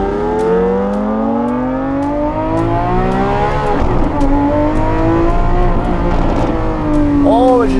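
A Novitec-tuned Ferrari 812 V12 supercar revs hard and close, its exhaust rising and falling in pitch with sharp pops and crackles, while excited voices talk over the engine.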